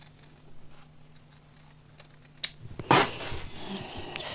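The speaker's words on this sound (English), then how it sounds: "I'll cut it out, and I'll cut out the back neck" After a quiet stretch, scissors snip through fabric while a turtleneck bubu's front neckline is cut out: a sudden, close, crisp burst of cutting noise that carries on steadily.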